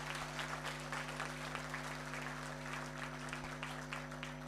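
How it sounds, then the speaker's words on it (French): Steady audience applause fills a hall at an event in Cameroon, continuous and fairly dense, heard at a distance under a strong electrical hum. "Applaudissez encore pour lui."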